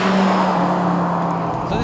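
An SRT Viper's engine pulls hard in second gear, a loud, close roar with a steady droning tone that climbs slightly in pitch before easing off near the end.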